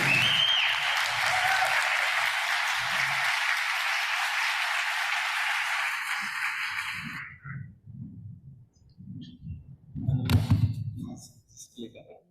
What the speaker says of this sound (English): we can stand up and give big applause for them for sharing their story